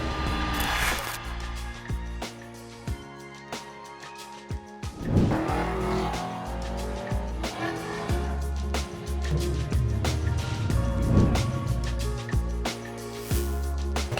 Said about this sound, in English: This is the perfect time to get our Cutlass out here, put some laps in, and really put it through its paces.